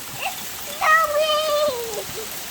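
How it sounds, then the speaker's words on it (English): Hail patters steadily during a thunderstorm at a garden being planted with asparagus and strawberries, a brief rising and falling voice cutting in over the pelting noise. "Well, it's hail."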